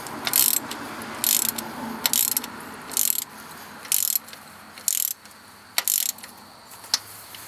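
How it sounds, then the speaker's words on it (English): A ratchet wrench tightens cylinder head bolts during a head replacement, giving repeated rapid clicking bursts about once a second, crisp and close, with quiet pauses between strokes. "Now they just tighten them up."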